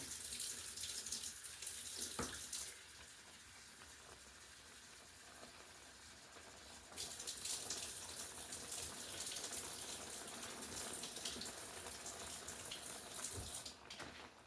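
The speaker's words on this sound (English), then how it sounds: "So I'm just putting some warm water over them." Steady rush of warm tap water pouring over frozen peas in a bowl, briefly quieter in the middle before the full flow returns, with no talking.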